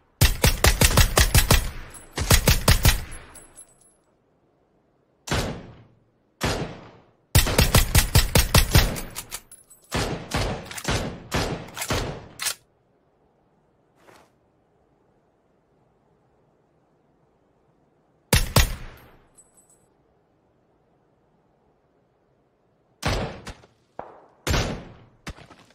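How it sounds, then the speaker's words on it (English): Gunfire in the video game Squad: loud bursts of automatic rifle fire in rapid strings, separated by quiet gaps, with a few isolated distant shots in between. "we're getting shot back out here from somewhere"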